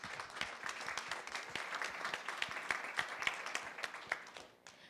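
Sustained crowd applause at a student senate town hall honoring campus vice presidents, steady dense clapping throughout that tapers off at the end.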